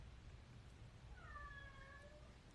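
A pet cat gives a single drawn-out meow, fairly close but soft, rising and falling over a low steady hum in a quiet indoor room.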